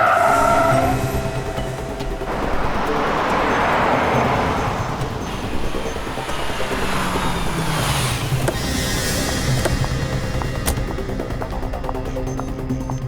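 A car turns around on the road with tires skidding and screeching, loud and close, sustained over several seconds against engine and road noise.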